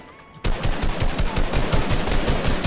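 Rapid, loud bursts of gunfire in Fortnite, starting abruptly after a brief quiet moment and continuing as a dense, steady stream of shots close up, with no talking.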